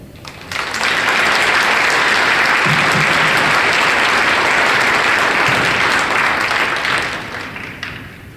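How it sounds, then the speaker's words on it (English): Loud, dense applause from a school audience at a middle school Veterans' Day celebration, swelling quickly and holding steady for several seconds before tapering off. "Give yourself a round of applause."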